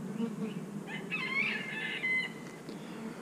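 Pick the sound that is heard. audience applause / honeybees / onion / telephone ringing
honeybees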